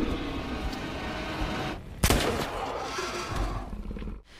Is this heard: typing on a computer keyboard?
no